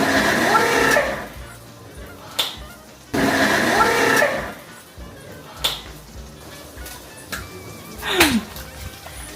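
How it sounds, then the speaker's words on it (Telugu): Kitchen mixer grinder pureeing tomatoes in two loud bursts of roughly three and one seconds, each with a rising whine, followed by scattered clicks and clatter as the jar is handled. "ఇప్పుడు మనం దాన్ని ప్యూరీ అంటే సింపుల్గా మిక్సీ చేసుకోవడం అంతే."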